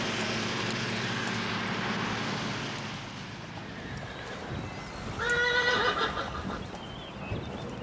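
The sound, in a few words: horse neighing at stables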